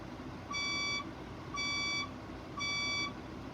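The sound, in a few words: building fire alarm sounding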